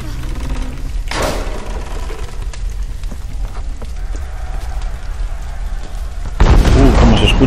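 Several loud booming blasts in the video game Tomb Raider, with a heavy burst near the end over a steady rumbling background.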